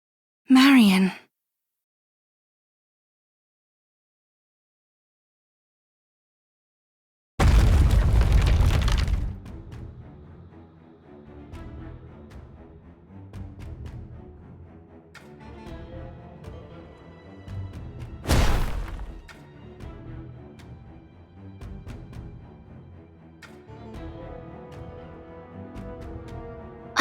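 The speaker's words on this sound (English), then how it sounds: "I hear gunfire and explosions." Explosions in the video game Goddess of Victory: Nikke: two heavy, sudden blasts burst out, one early and one later, each fading into a background music bed.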